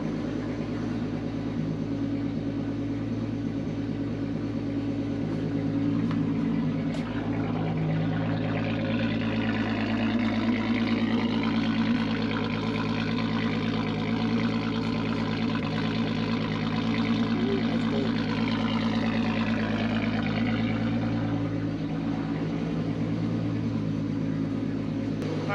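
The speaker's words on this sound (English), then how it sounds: "I think that was a successful cold start." A turbocharged 12-valve VR6 in a Mk2 Jetta idles after a cold start with a steady, even low rumble and hum that holds unchanged throughout, alone without talking.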